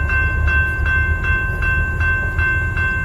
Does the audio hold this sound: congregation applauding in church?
no